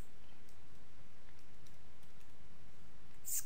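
Code is typed on a computer keyboard as a run of faint, sparse clicks over steady background noise.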